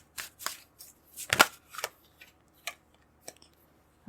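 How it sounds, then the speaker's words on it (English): Tarot cards are drawn and handled up close, a string of quick, sharp papery snaps and flicks with short pauses between them in a quiet room. "so I'm going to pull more cards."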